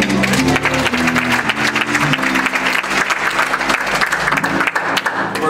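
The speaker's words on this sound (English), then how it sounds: "Let's give God another hand clap of praise." Loud, sustained applause from a Baptist church congregation fills the room, dense hand clapping continuing steadily throughout with organ or music tones underneath.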